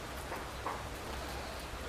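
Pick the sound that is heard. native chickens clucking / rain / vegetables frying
rain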